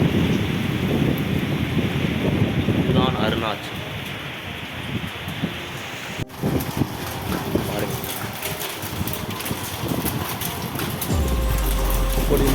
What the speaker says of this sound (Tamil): அடாத மழை பெஞ்சுக்கிட்டு இருக்கு பாருங்க. என்ன ஒரு மழை, புயல்,